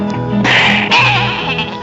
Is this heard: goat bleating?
yes